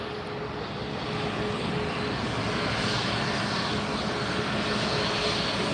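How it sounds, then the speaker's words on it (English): A WestJet airliner approaches at Fort Lauderdale airport, its engine roar a steady, loud broadband rumble that holds evenly throughout with no talk over it. "I hear another plane coming, guys."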